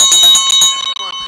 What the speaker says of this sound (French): C'est bien la cloche